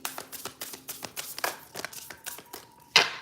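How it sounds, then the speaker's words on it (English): A deck of oracle cards being shuffled by hand: a run of quick, crisp riffling snaps and taps in an uneven rhythm, close and fairly quiet, ending with a sharper slap as the deck settles. "Last shuffle."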